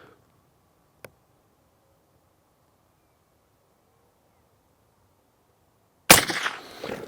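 A Browning Maral rifle fires a 150 grain hammerhead round: one sharp, loud report near the end with a rumbling tail. It follows a long quiet stretch that holds a single faint click.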